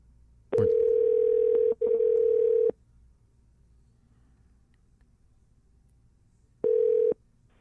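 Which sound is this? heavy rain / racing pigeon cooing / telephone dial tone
telephone dial tone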